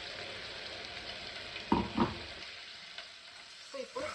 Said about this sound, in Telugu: సో ఇప్పుడు దీన్ని మనం ఒక 1 minute ఫ్రై చేయాలండి.